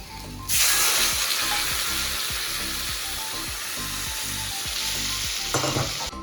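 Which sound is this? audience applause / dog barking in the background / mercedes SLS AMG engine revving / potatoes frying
potatoes frying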